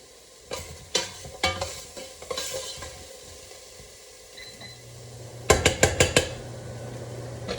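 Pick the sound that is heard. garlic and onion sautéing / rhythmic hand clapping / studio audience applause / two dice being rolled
garlic and onion sautéing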